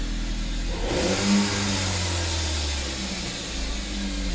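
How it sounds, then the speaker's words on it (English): A Chevrolet Cobalt SS engine holds a steady, loud high idle after first starting, with a brief rise in revs near the start before settling into an even drone. "Oh my god, it runs."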